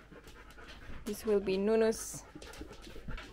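A dog pants in a cabin bedroom in Northern Finland, a quick steady huffing close by while a person speaks over it.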